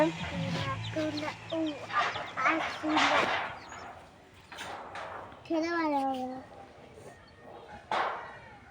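Chickens cluck in short, repeated bursts close by, mixed with people talking and some scuffling movement.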